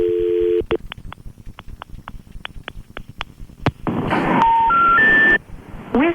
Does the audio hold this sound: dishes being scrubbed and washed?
no